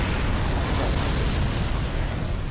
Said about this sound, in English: I block this explosion and I take no damage